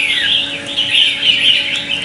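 A red-whiskered bulbul, a wild-caught fighting bird, sings a loud, continuous warbling chirp close to the microphone, with rising and falling phrases and no talking.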